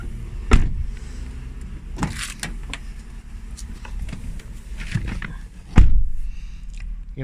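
Sunroof of a 2015 Mazda CX-9 with a charcoal leather interior opening, heard from inside the cabin as a steady motor whir, bracketed by two sharp mechanical thumps near the start and end, with no talking.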